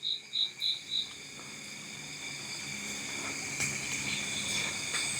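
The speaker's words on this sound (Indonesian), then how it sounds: "Jangkrik." Crickets chirping in a steady outdoor night chorus, opening with four distinct pulsed chirps, then a continuous high trill over faint background hiss.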